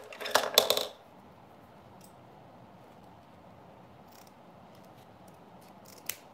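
Scissors snip through an elastic band for a lace front wig in one brief close burst of cutting, then near silence, with a single faint click later on.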